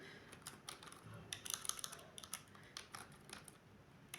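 Someone types C code on a computer keyboard, producing quick, irregular clusters of quiet key clicks that run steadily throughout.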